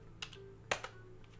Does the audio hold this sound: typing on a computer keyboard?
yes